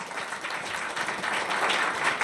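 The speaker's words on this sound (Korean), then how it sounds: "이사장님 나오실 때 박수 부탁드리겠습니다." Dense, steady applause from a forum audience at a Korea–China 30th-anniversary diplomatic event as the foundation chairman comes on stage, a close continuous wash of clapping with no speech.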